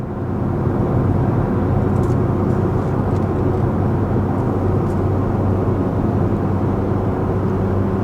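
A Ford F150 Tremor towing downhill in tow haul mode, its engine droning loud and steady as it downshifts, with a constant low rumble and road roar and no talking.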